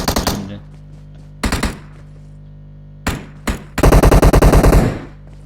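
Gunfire in the mobile game PUBG Mobile: loud, close automatic bursts, short rattling volleys with gaps between, ending in a longer sustained spray of rapid shots.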